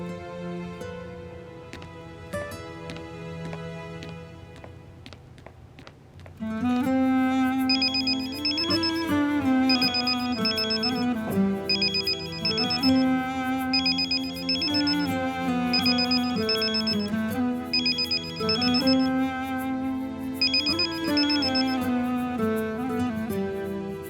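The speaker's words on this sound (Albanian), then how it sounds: "përse nuk e hap telefonin?" A telephone rings unanswered in a scene from a dubbed drama series. After a quiet start, a melodic electronic ringtone repeats its phrase steadily and loudly for nearly twenty seconds, with no talking.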